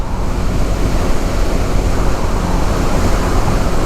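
Strong wind roars steadily across the microphone in open rice fields, a dense, unbroken rush of low buffeting noise with no voices.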